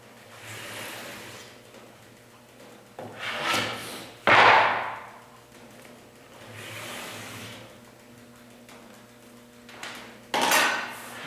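A small hand knife trims excess edge banding along a panel edge, giving a few soft scraping strokes and one sharp louder cut, close by with no talk.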